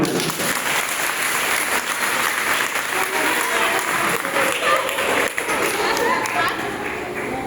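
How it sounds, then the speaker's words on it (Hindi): A crowd at a school science activity session claps steadily and enthusiastically, with a few voices mixed into the sustained applause. "जोरदार तालियां"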